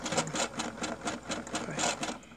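A Brother SE400 embroidery machine stitches steadily, its needle driving a fast, even rhythmic chatter that runs continuously at close range without pause.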